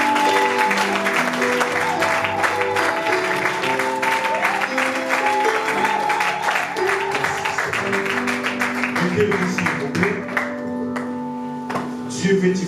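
A church congregation claps loudly and steadily throughout, the rhythmic applause layered over ongoing worship music.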